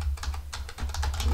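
An unzip command is typed on a computer keyboard in quick, uneven bursts of close clicky keystrokes, with a brief pause midway and no voice.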